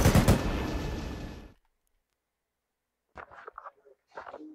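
Burst of automatic gunfire in ArmA 3 during a firefight alongside a Black Hawk helicopter, loud rapid shots for about a second and a half that tail off, then silence before people talk over radio.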